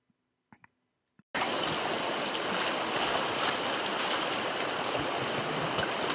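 A boat cruises down the Kangakut River, its engine and rushing water making a loud, steady wash that cuts in abruptly after a few faint knocks and continues unbroken.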